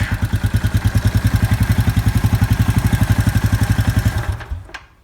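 A Suzuki quad with a newly replaced starter motor running at a loud, close idle, its engine thumping in a fast even rhythm for about four seconds before it is shut off and dies away.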